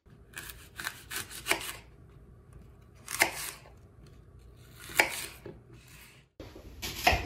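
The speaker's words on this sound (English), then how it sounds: "And then you just take your apples and you quarter them, removing any bad spots" A knife cuts apples into quarters for cider. Crisp, separate chopping clicks come in small clusters with quiet pauses between them, close and fairly soft.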